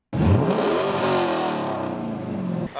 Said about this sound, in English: A 2012 Dodge Challenger RT